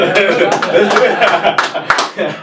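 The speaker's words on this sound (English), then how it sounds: "Are we clapping?" Podcast hosts and a guest clapping briefly in a studio, a quick run of close, sharp claps mixed with light chuckling and talk.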